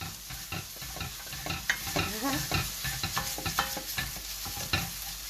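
Lamb chop curry sizzles and fries in a pan while a utensil stirs and scrapes through it in repeated close, irregular strokes, with no one speaking.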